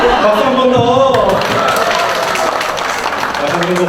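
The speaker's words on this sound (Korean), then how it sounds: "박수 한 번 더!" Applause and clapping from an audience at a Korean village-making network youth gathering, a dense steady patter mixed with crowd voices and talk throughout.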